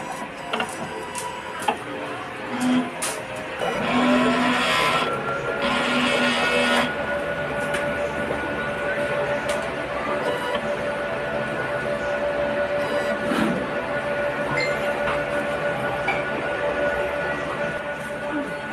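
Sublimation printer running a head clean cycle, with steady mechanical whirring and clicking, periodic buzzy pump or motor bursts, and a constant hum over about nineteen seconds.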